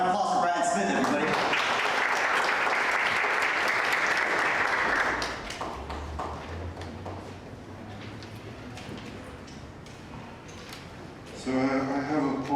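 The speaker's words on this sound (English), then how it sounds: "Round of applause for Brian Smith, everybody." An audience at a poetry reading applauds for a poet, loud dense clapping for about five seconds that then fades into thinner scattered claps before a voice resumes.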